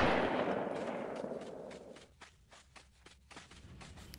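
Rapid gunfire in the Delta Force Land Warrior video game crackles in a dense burst that fades into a series of separate sharp shots and distant pops.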